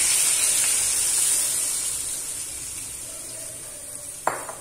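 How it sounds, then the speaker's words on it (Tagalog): A second pressing of coconut milk poured into simmering chicken feet sets off a steady broad hiss and sizzle that slowly fades, ending with a sharp clink of a utensil against the pot. "ilagay natin ang pangalawang piga ng gata"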